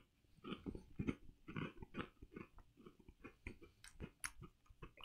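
Close, crisp crunching of a Japanese crunchy wafer snack being chewed, bites coming in a steady uneven rhythm with no talking.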